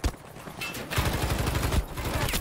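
Rapid bursts of gunfire in Battlefield 5 on Wake Island, dense and continuous across the clip, with heavier low booming shots in the second half, nearby and loud, with no talking.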